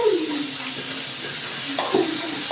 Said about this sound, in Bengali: আমি দিয়ে দিচ্ছি জল।